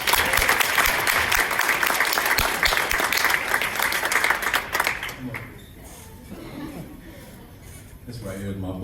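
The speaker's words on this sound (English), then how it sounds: "a round of applause" Audience applause at a school board of education meeting: a sustained, dense burst of clapping for about five seconds that fades out, followed by a quieter room with some talking.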